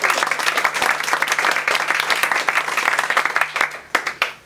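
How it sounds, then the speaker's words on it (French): An indoor audience applauds at a comedy stage show, loud close clapping building to a dense roar and then thinning into scattered individual claps as it dies away. "On peut les applaudir bien fort."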